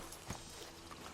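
Horse hooves in Red Dead Redemption 2, a faint, soft clopping over a low steady game ambience in a very brief moment, with no talk.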